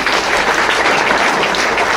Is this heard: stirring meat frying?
no